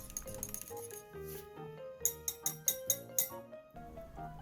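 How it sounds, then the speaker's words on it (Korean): A whisk beats eggs with about half a cup of cider in a bowl, giving a quick run of six or so bright, evenly spaced metallic clinks midway through, set against steady background music. "거품기를 이용해서 넣은 재료들을 잘 섞어줍니다."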